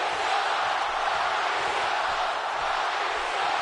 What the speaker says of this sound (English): There's again the crowd here, Bakersfield behind The Rock